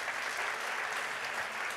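An audience at a girls' assembly applauds steadily, a dense, even wash of many hands clapping together that holds at a constant level throughout, with no voices standing out.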